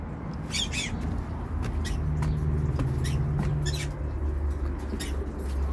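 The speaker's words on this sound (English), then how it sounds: "He's a smart bird." A pet parrot gives several sharp, harsh squawks and chirps in short bursts over a constant low hum and background noise indoors, fairly close and loud.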